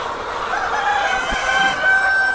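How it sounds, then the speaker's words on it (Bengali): Chickens on a Sonali poultry farm crow and cluck in a steady, continuous farmyard din at close range, busy at feeding time, with no voices. "দেখতে পাচ্ছেন মুরগিগুলো খাবারের জন্য ব্যস্ত হয়ে পড়েছে"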